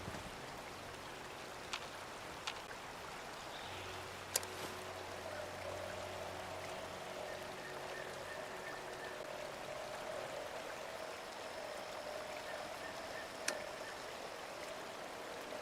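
Steady river water flowing in Fallout 76, a constant, even rushing wash with faint scattered ticks and splashes, heard alone with no talking.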